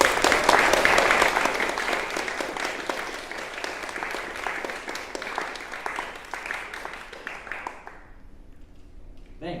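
A panel-discussion audience applauds to welcome the panelists, a full, sustained round of clapping that stays strong for several seconds before thinning and fading out near the end.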